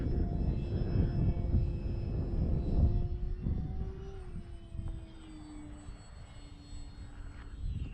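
An Arrows RC Trekker remote-control plane flies overhead with a steady buzzing electric motor whine whose pitch slowly drops as it passes and fades into the distance, over breezy outdoor rumble.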